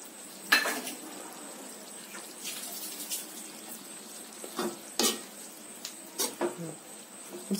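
A spoon stirring drumstick curry with red chilli powder in a pot, soft scraping clinks and wet stirs at irregular intervals over a faint steady sizzle, with no talking.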